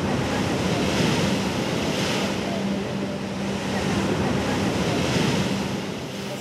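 Steady roar of sea waves washing and splashing close by against houses on the Mumbai shore, with wind noise over the microphone and no break in the surf.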